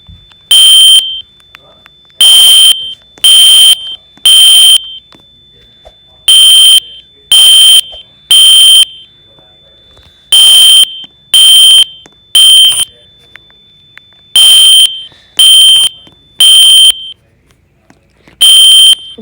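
A home fire alarm system in a medical care facility is tested, giving loud, sharp electronic beeps in regular groups of three with short silences between the groups.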